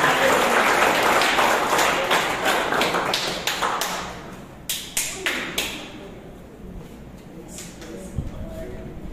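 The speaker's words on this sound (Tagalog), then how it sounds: "Mas malakas na palakpak sa Panginoon." Church congregation applause, loud and dense at first, then thinning into scattered separate claps and taps as it fades, with voices talking underneath.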